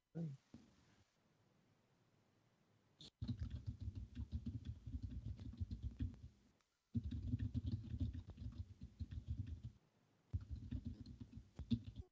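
Quiet typing on a computer keyboard comes in bursts of rapid clicking, with short pauses between stretches of keystrokes.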